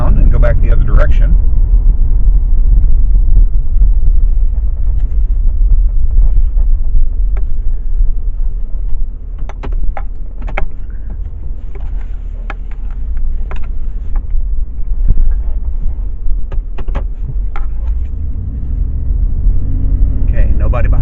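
A 2020 Ford F150 drives at 55 miles an hour, giving a loud, steady low road rumble and wind noise from inside the cab, with faint clicks and taps over it.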